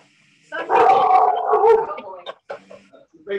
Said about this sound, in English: Big dogs.